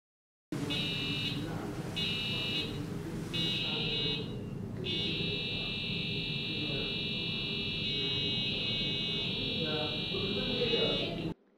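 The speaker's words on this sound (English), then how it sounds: "Here you can hear the buzzer make sound when the LED is shined." An electronic buzzer on an Arduino light-alarm circuit beeps three times in short bursts, then sounds one long continuous tone over steady background noise.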